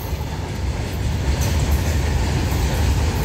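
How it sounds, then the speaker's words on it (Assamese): A train rumbles past nearby with a dense, steady roar and faint clattering, loud and continuous. "প্ৰথমতে ট্ৰেন খান যাওক ৰ পুৰা মানে একদম বহুত ছাউণ্ড হৈ আছে"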